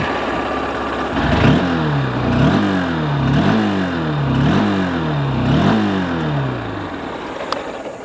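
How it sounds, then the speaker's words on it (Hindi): A 2024 Honda SP 160 motorcycle, with both self and kick start, is revved repeatedly, about five rising-and-falling throttle blips over a steady idle, loud and close with no talk. "चलिए एक बार आपको मैं एग्जॉस्ट नोट भी करा देता हूँ।"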